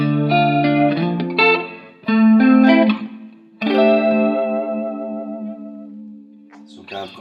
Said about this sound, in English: So the first chorus sound, chorus A, it's quite nice, but I prefer this one, chorus B. It sounds a little warmer.